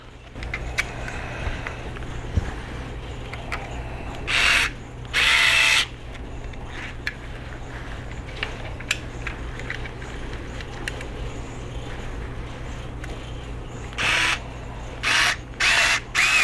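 Power drill drives number 4 screws into hardware from an Out of Darts kit for a BattleAxe blaster, several short loud whirring bursts separated by pauses filled with low background hum and small clicks.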